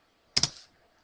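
Two quick keystrokes clack on a computer keyboard while a command is entered on a Windows 7 computer, close and brief, with silence around them.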